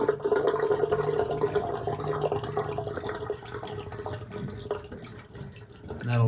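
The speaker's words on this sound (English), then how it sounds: "Basically, we're just draining all the water out of it right now." Water drains steadily from a Jandy Pro Flow 2.0 pool pump, a continuous trickling and splashing close by, with some faint background noise.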